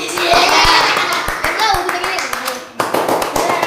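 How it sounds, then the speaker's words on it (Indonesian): Schoolchildren in a fourth-grade religious studies class clap for a classmate, a burst of quick, loud, uneven claps up close, with children's voices chattering underneath and a brief lull before the clapping picks up again. "beri tepuk tangan buat temanmu"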